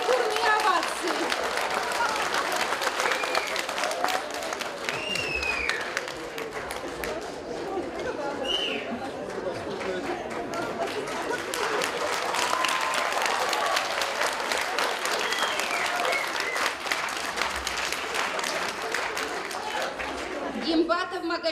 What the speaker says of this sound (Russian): Какие бурные овации!